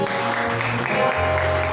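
Congregation applauding during a church service, a steady dense wash of clapping filling the space, with a low musical drone underneath and no clear talk.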